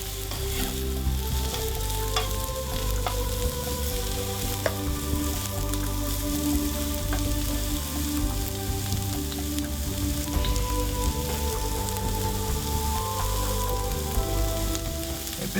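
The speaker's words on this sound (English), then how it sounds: "Oil the pan. Olive oil adds a bit of Italian authenticity. Start the onions frying." Onions fry in olive oil in a pan with a steady, close sizzle and crackle, continuous throughout with no talking.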